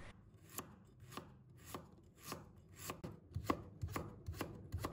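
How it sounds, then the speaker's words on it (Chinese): A knife chops a peeled piece of ginger into thin slices on a cutting board, about nine sharp, evenly spaced cuts in a steady rhythm, close and clear, with no voices. "准备1块去了皮的生姜，切成薄片"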